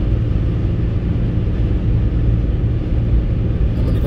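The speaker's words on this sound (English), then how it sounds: "The humming of the motor and the tires" A car cruises along an expressway, its motor and tires giving a loud, continuous low hum and road rumble that holds steady throughout, close and uninterrupted.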